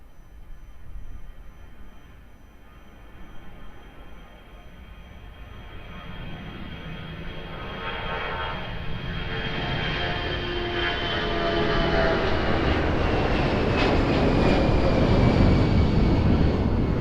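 Airliner on final approach to runway 02 at Lisbon Airport, its jet roar swelling gradually from faint and distant to loud and near over about seventeen seconds, with no voices.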